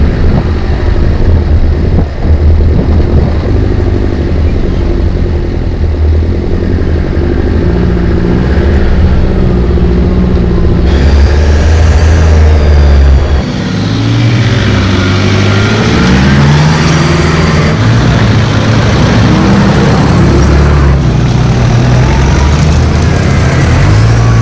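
A 4WD vehicle grinds along the Clear Hills track in Victoria's high country, its engine a loud continuous rumble that rises and falls with gear changes while wind buffets the microphone.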